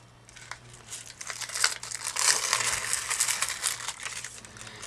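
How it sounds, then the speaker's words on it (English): Backing paper peeled off a sheet of scrapbook adhesive gives a close, crackly rustling and tearing that swells and continues for several seconds over a faint steady hum. "all you do is you just peel this off"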